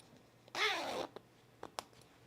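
A zipper on a fleece pullover is handled during sewing: one quick, clear zip pull, followed by a few faint clicks and taps of the pull being moved.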